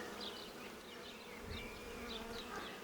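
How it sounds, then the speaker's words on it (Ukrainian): Honeybees hum steadily across a brood frame lifted from a Ukrainian-Alpine hive as a young bee emerges, a dense, close swarm buzz with individual bees whining past the microphone throughout. "Дивіться, бачите, виходить молода бжола."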